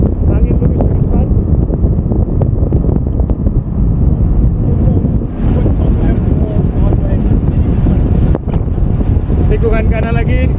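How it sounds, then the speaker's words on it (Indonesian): A strong headwind blows straight from the front along a winding course, roaring loudly and steadily against the microphone throughout, with a faint voice underneath. "Langsung menghadapi headwind,"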